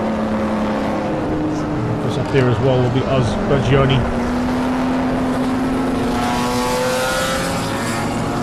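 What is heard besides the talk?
BMW race cars racing at Zwartkops circuit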